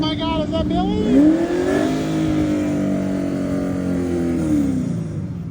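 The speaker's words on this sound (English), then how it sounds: "Sounds like Billy's car's got a high idle." A drag car engine runs at a high idle outdoors at a cold-weather drag racing event, a steady loud drone with a rising and falling pitch and voices talking over it.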